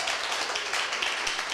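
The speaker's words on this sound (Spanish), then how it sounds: "Un aplauso para Arley." Brief burst of dense applause from a church congregation for Arley during a sermon, steady and fairly close, lasting just over a second with no talk over it.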